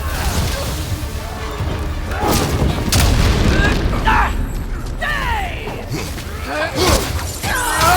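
Explosions and crashing debris boom through a God of War Ragnarok battle, loud blasts and shattering layered over game effects, with voices calling out in the game.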